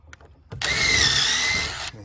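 A power drill whirs steadily for about a second and a half after a couple of faint clicks, driving a screw without pre-drilling into a rim joist during ICF floor installation, loud and close, then stops abruptly.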